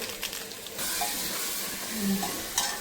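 A pan of masala gravy stirred while cooking paneer kabsa, with steady sizzling and scraping under a faint voice in the background.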